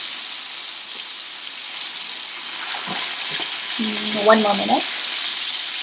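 Kebab frying in a pan, turned with two spatulas, gives a steady close sizzle throughout, with a few scraping stirs near the end and a brief spoken remark over it.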